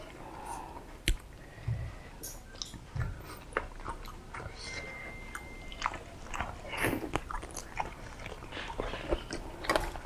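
Close-up eating of seafood with a fermented fish dipping sauce: crisp bites, wet chewing and small clicks repeat at an irregular pace, with occasional faint voices in the background.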